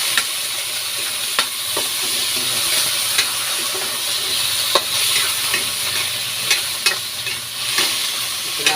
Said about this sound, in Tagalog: Pula-pulahin ko lang para maluto-luto yung hipon